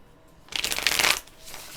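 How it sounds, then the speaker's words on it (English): Playing cards riffled and shuffled for a tarot-style card reading, a quick burst of papery flutter lasting under a second, close and fairly loud, with quieter handling before and after. "We're going to pull 3 cards for that."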